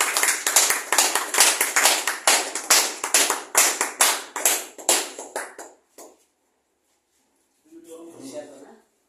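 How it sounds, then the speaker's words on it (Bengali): Audience applause, a run of sharp, rhythmic claps for about six seconds that stops abruptly, followed after a pause by a brief stretch of speech. "হাততালি চলবে, বন্ধ হবে না"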